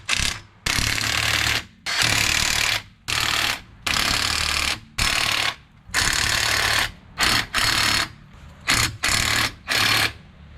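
Socket tool tightening 19mm wheel spacer nuts on a vehicle hub in a star pattern, giving about nine loud, close bursts of mechanical whirring with short silent pauses between them.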